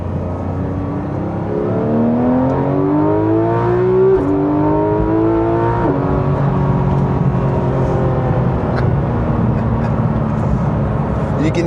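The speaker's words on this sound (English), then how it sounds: "You can hear the gears just banging together. This Porsche PDK gearbox, arguably one of the best gearboxes ever made." Porsche 911 GT3 RS with its PDK gearbox pulls through the gears on the road, a loud, steady engine note rising in pitch, dropping sharply at each shift, then climbing again, heard from inside the cabin.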